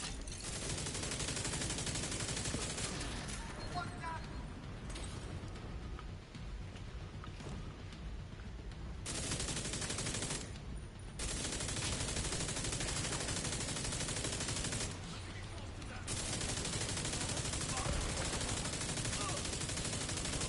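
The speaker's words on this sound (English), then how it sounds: "Oh man, another machine gunner, man. How many machine gunners are there?" An enemy machine gunner in The Division 2 fires sustained bursts, a loud rattling barrage broken by a few short pauses before the shooting resumes.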